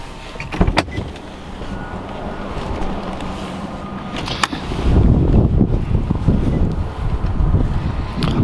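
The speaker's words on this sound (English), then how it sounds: "Power folding mirrors." Power-folding side mirrors on a 2013 Infiniti FX37 with about 80,000 miles whir briefly after a couple of clicks, followed by a steady, louder motor and wind-like hum outdoors.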